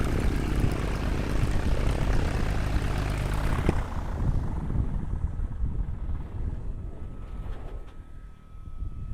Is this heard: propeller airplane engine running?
yes